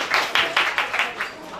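An audience at a national press day ceremony applauds in a steady, rhythmic beat of about half a dozen clear claps, close and moderately loud over a short stretch.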